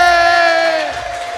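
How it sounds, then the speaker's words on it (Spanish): A live comedy show audience lets out a brief burst of loud cheering and whooping, a sustained crowd roar that fades slightly toward the end. "Un aplauso para todos"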